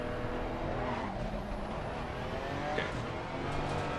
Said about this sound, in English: Oh, still one car coming.